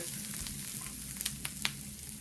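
Green chillies sautéing in a pan for a fish dish grilled in banana leaf, a steady close sizzle with a few sharp spatula taps and scrapes near the end.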